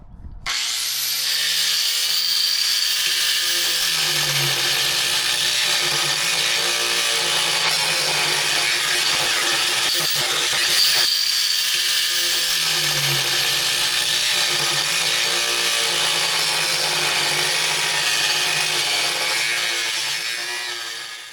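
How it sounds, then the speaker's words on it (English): An angle grinder grinds out old welds in metal during a repair, a loud, steady high whine running continuously for about twenty seconds, with pitch dipping briefly as the disc bites in twice. "we're gonna grind out these old welds and we're gonna make a V"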